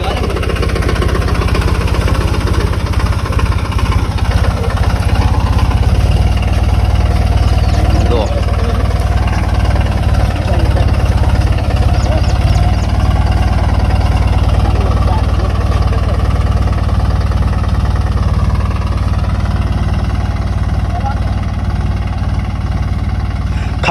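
A loud, steady tractor engine drones low and continuously throughout on a farm, with voices talking over the rumble.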